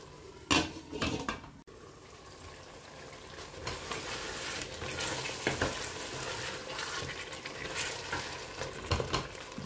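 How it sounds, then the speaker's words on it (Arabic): Spinach and mixed vegetables for a Tunisian vegetable and lamb stew fry in a pot while being stirred, with steady sizzling, repeated scrapes and clinks of a utensil against metal, and a louder knock near the start. "خلطوا كل شيء مع بعضه، خلوها تتقلى بالكدا"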